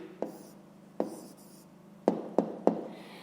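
Handwriting the answer to a fifth-grade fraction problem, with several crisp pen strokes and taps, two spaced apart and then three in quick succession, close and quiet with no voices.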